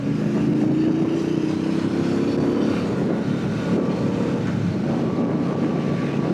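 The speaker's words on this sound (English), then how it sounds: "we'll do a quick overtake just to give a demonstration of the power" Triumph Speedmaster 1200 motorcycle accelerating hard to overtake on the road, its engine drone rising in pitch under heavy, constant wind rush at the microphone, loud and close.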